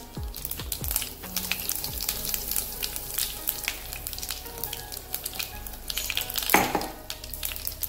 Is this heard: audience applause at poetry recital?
no